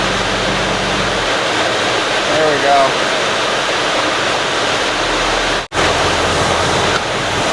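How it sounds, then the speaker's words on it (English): Heavy rain pours down in Arizona around a 1973 Dodge camper pickup, a steady loud broadband wash with a brief cut near the end; someone speaks briefly under it. "Some very much welcomed rain here in Arizona."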